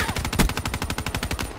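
Rapid automatic gunfire in Black Ops 3, a dense loud burst of evenly spaced shots firing continuously without pause for the whole moment.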